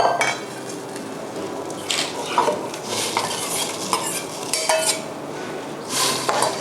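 Curry paste and mushrooms are stirred into coconut milk in a pot for a Thai mushroom curry sauce, with close, irregular scrapes and clinks of a utensil against the pot and no talking.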